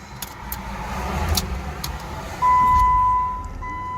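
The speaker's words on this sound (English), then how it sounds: "So maybe if I turn the key off and turn it back on, O2 a show." A car's ignition key is turned off and back on, with a few faint clicks followed by a steady electronic chime that starts partway through and then drops off, all heard close inside a quiet vehicle.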